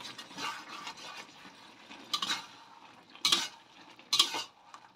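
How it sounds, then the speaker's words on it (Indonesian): A spoon stirs a canned sardine dish in a frying pan, soft scraping swishes with a few louder clanks of utensil on metal, close and continuous over a faint sizzle. "Diaduk hingga rata."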